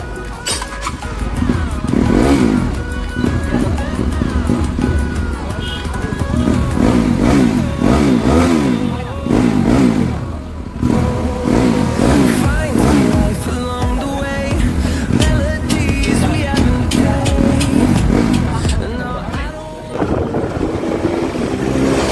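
Bajaj NS200 motorcycle with an SC Project aftermarket exhaust, revved repeatedly up and down close by, loud throttle blips rising and falling in pitch with brief dips near idle between pulls.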